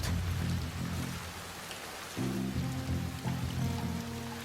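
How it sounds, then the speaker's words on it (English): Steady rain falls in Shadow Tactics: Blades of the Shogun, a dense, even wash of rainfall running the whole time, with low game music tones joining partway through. "Rain's cold."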